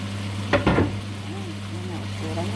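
Pork sautéing in a pan, with a couple of quick scraping stirs followed by a soft, steady sizzle and low background hum.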